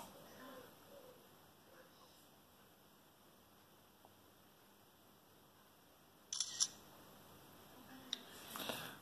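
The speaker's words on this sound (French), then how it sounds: "On va se prendre une petite photo pour ce déballage." A ZTE Nubia Z17 Lite phone camera takes a photo, giving a short burst of shutter-like clicks and bleeps about two-thirds through. A quiet room's hiss sits under it.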